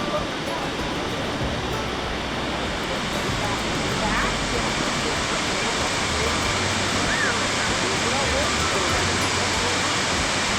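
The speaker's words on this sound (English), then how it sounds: "I can hear the water coming down." A Tennessee waterfall pours over rock layers into a pool below, a loud, steady rush of broadband noise that fills the whole stretch without a break.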